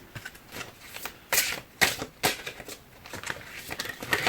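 Large oracle cards shuffled by hand, a run of close, papery riffles and flutters with several sharper slaps as cards spill and drop, irregular in rhythm and heard alone.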